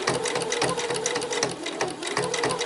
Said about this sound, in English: So I'm just going to sew the strap on